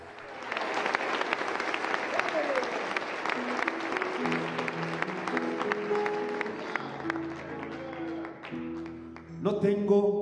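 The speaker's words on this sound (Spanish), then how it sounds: "aplauso a Cristo Jesús." A congregation claps during church worship, steady rhythmic handclaps that run on over sustained musical tones and singing and then fade near the end.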